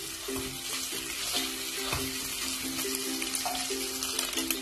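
Chicken sizzles in a hot pan while being sautéed for egg fried rice, a steady close frying crackle with occasional stirring scrapes and no talk.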